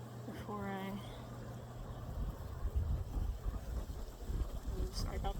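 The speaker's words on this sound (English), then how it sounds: "I know you don't like it when it's windy." Gusty wind buffets the microphone in low rumbling bursts beside a beehive, growing stronger partway through, with a brief engine-like whine at the start.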